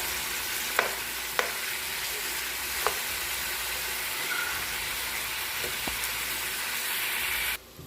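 Steady crackling sizzle of chicken frying in a pan, with a few sharp clicks and pops of stirring along the way, and no voices.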